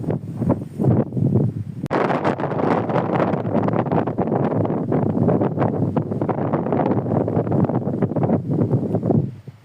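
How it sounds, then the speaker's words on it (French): Strong gusts buffet the microphone on a pilgrim trail to Santiago de Compostela, a loud, continuous roaring rumble that swells and dips for the whole stretch, with no talking over it. "Allez, je coupe, il y a trop de vent."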